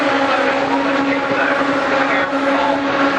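Racing trucks roaring through Paddock Bend at Brands Hatch circuit, a loud sustained engine drone from several vehicles passing at distance with no pause.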